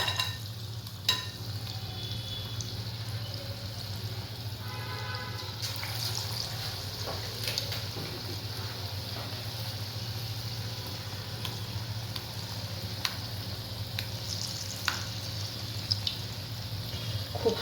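Paneer pakoda frying in hot oil, a continuous bubbling sizzle with a low steady hum beneath and occasional light clicks and scrapes of utensils.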